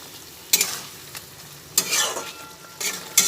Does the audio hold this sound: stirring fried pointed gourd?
yes